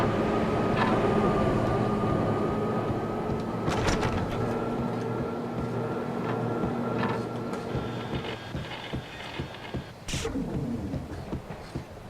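A train in the Max Payne video game rumbles steadily with a low mechanical hum, rolling on with faint clanks and ending in a sharper metallic clatter near the end.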